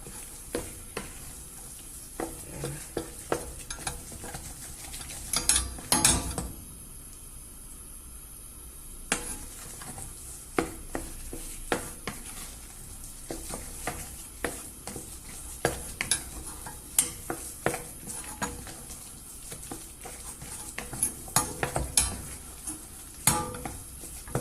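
A psyllium husk mixture cooks on the stove while a utensil stirs it, giving soft scraping and clinks against the pot over a faint sizzle, with scattered quiet knocks throughout.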